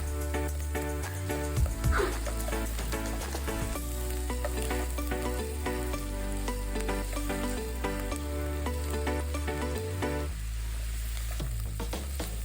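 Water spinach and mushrooms sizzle in a hot pan while a utensil stirs them. The frying hiss is continuous and close, broken by repeated scraping and clacking.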